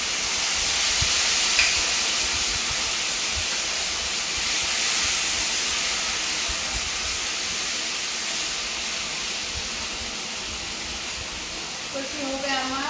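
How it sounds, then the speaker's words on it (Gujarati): Tomatoes dropped into a hot pan while cooking umra nu sak, a Gujarati fig-style vegetable dish, give a steady, loud hiss and sizzle that holds for the whole stretch, easing only slightly toward the end. "હવે આમાં ટમેટા એડ કરું છું."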